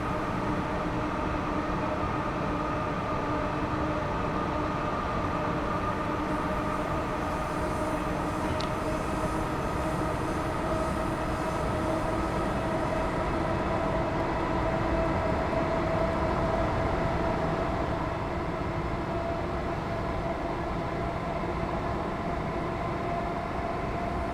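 A Class 350 electric train in Train Sim World 5 runs along the line, a steady rumbling drone with a sustained whine and rail noise, constant and close from start to finish, no voices.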